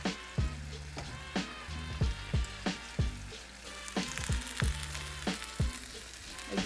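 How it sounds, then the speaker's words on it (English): Ground turkey and onion browning in a skillet over medium heat, a soft continuous sizzle punctuated by a regular series of loud spatula knocks and scrapes against the pan. "are browning our ground turkey, I typically like to put in the onion early on."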